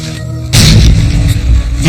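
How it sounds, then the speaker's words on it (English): Cannon fire in a Napoleonic battle: after a brief quieter lead-in, a heavy boom bursts in and rolls on as a sustained, loud thunder of artillery. "An estimated 3 cannon shots per second, 430 musket rounds a minute, for 10 long bloody hours."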